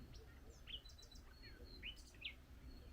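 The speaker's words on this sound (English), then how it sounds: "there's a lot of birds out today" Several birds chirp and tweet in the woods, short bright calls scattered over a quiet, low background hum, faint and somewhat distant.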